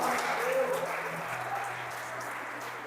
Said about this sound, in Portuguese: Se você crê, diga amém e aplauda Jesus